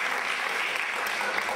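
Audience applauding at a school farewell ceremony, a brief, dense burst of steady clapping from a crowd of students and teachers.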